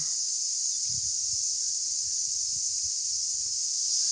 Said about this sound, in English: The sound of the cicadas is amazing.